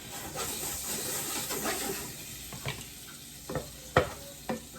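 Two tablespoons of butter melt and sizzle in a hot pan, a steady frying hiss broken by a few soft scrapes and clicks of stirring toward the end.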